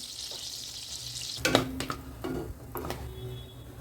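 Hot oil hisses quietly, then bursts into a loud crackling sizzle as fennel seeds and cardamom drop in for paneer masala, with a few lighter spits and stirring clicks after.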